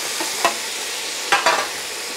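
About 2.5 pounds of cut-up beef sautéing in oil gives a steady close sizzle, broken by a few sharp scrapes and clacks from a utensil turning the meat.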